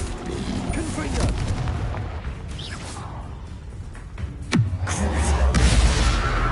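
Confringo fire explosion spell from Hogwarts Legacy: a loud booming blast with a sharp descending whoosh midway, followed by a rumbling low roar amid ongoing game combat noise.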